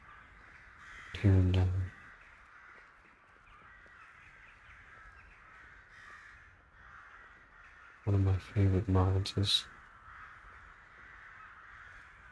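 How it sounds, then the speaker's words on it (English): Crows cawing over a city in a modded Skyrim video game, two loud clusters of harsh caws, one brief and one longer run of several calls, heard over a soft ambient hum while someone talks quietly in between. "crows and birds over cities mod that I added"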